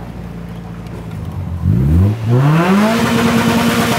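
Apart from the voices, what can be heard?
car engine revving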